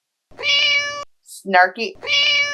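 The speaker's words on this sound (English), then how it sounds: "Cat always out here with something to say." A cat meows loudly and close by, two drawn-out, tonal meows with a brief stretch of human voice between them.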